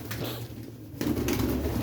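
Pet pigeon cooing nearby, a short low throaty coo in a brief burst, fairly close with some background noise.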